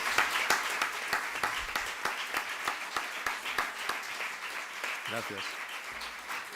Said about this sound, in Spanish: Un aplauso para Vicente, por favor.